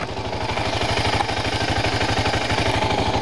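BMW motorcycle engine idling in neutral, a close, steady low throb with fast even pulses and a slight mechanical rattle throughout, no voices.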